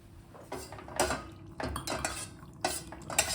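Utensils scraping and knocking against a pot as a thick ragi flour mixture is stirred on a low flame, in several irregular bursts close by, with no voices.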